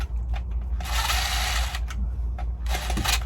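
Screws are loosened on the box of an RV air conditioner, with two bursts of whirring power-driver noise over a steady low mechanical hum, close by.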